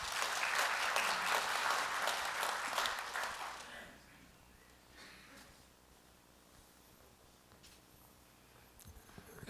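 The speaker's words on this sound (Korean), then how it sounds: "큰 박수 부탁드리겠습니다" Loud applause from an audience at a rural communities campaign launch ceremony greets a lawmaker taking the podium, then dies away after about four seconds, leaving quiet room noise.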